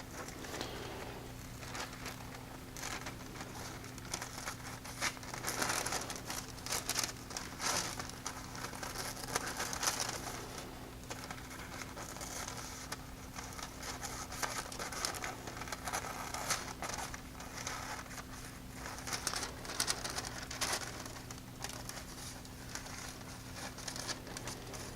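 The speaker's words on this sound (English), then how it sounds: "It's very good to have a nice sharp pair of scissors when you do this," Sharp scissors trimming tattoo transfer paper around a stencil drawing, producing steady faint snipping, crinkling and rustling paper sounds close up with no talk.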